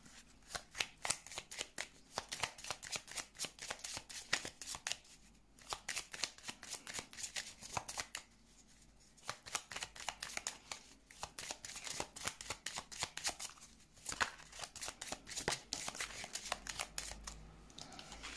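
Tarot cards shuffled by hand for a reading, a steady run of rapid riffling and flicking strokes that carries on for nearly the whole stretch, with brief pauses between bursts and no talking.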